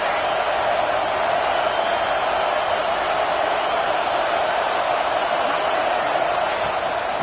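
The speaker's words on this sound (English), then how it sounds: "This crowd trying to make life miserable for this offense." A stadium crowd in the NCAA 26 football video game makes a constant, even wash of roaring noise that holds at one level without clear peaks throughout.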